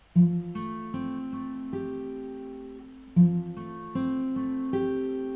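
Fingerstyle acoustic guitar picking a slow, gentle passage of a song from Final Fantasy X, close and clear, with plucked notes ringing over sustained bass and two stronger accented attacks, no voices.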